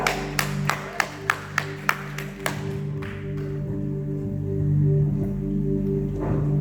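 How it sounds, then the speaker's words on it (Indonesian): A church congregation claps in a quick, sharp burst of about eight or nine rhythmic claps, then the clapping fades into a sustained musical drone and room noise. "beri tepuk tangan yang meriah untuk Tuhan kita"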